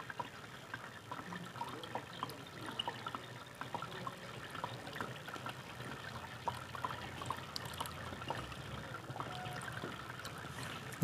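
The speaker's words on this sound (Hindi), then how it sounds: "इसको हम बार बार वॉश करते हैं थोड़ा थोड़ा पानी डाल के" Water is poured in small amounts over circuit parts to rinse off gold chloride, a faint, steady trickle with soft splashes and occasional clinks over about eleven seconds.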